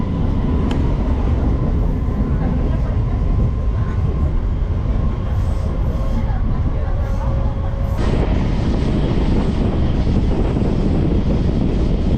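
Inside a nearly empty local train running from Kolkata to Purulia, the carriage gives a steady, loud rumble and rattle throughout, with a faint tonal hum and a sharp click partway through.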